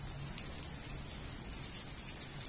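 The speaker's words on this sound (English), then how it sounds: "These are small hail." Small hail falls through a stormy New Mexico night, a steady, dense, close patter of countless tiny impacts with no pauses and no voices.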